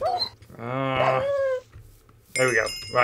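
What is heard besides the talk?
hell dog from a Minecraft modpack video game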